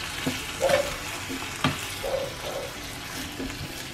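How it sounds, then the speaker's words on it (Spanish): Chicken pieces stirred through sauce in a pan for banana leaf tamales, with a soft sizzle and scattered spoon clinks and scrapes in an uneven rhythm. "Se lo voy poniendo poco a poco y lo voy mezclando para que todo el pollo quede, agarre color"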